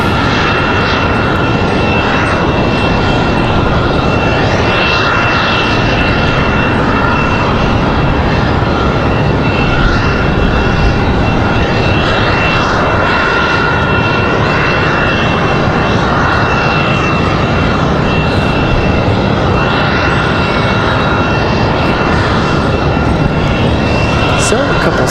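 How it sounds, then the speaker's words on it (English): An American Airlines Boeing 737-800 jet at Raleigh-Durham airport holds for departure, its engines giving a loud, steady roar that carries through the whole stretch, with people talking over it. "Got a couple ready for departure. It looks like another American 737-800."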